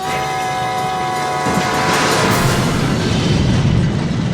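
A fireworks store blowing up in a comedy film scene: a steady roar swells into a louder, dense crackling rumble after about a second and a half, loud and sustained with no talk.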